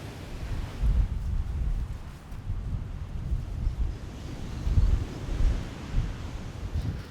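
Strong wind buffeting a microphone on open Montana public land during an elk hunting trip, with continuous low roaring gusts that swell and ease throughout.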